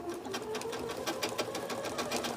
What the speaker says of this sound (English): I'm quilting a piece of fabric onto a wadding backing.